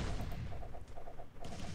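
Cannons firing in the Idle Kingdom Defense video game, a rapid stream of dull repeated pops and thuds in quick volleys, loud and continuous.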